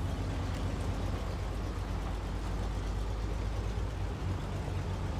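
A heavy truck engine drones steadily while driving through snow in SnowRunner, a continuous low rumble that stays loud and even throughout with no talk.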